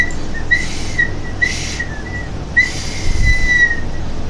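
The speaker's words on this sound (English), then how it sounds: "And this is a whole bag of whistles." A novelty whistle is blown in three short shrill toots, close and fairly loud, with brief pauses between them.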